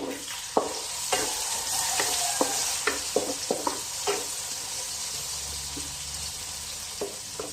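Spaghetti pasta is stirred into a sauce in a pan, with a spoon knocking and scraping the pan in irregular taps over a steady sizzle, close and clear, with no talking.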